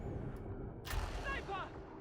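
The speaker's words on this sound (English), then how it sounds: "Oh my god, that's a sniper." Sniper rifle shot in Warhammer 40,000: Darktide: one sharp, booming crack midway through, set against game noise, with voices talking around it.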